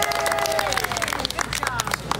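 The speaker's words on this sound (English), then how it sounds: "we're supposed to do a round of applause for salsa ready" Small crowd clapping at a live kitchen-chopper demonstration inside a Walmart store, brief scattered applause with a few cheers and background chatter, moderately close.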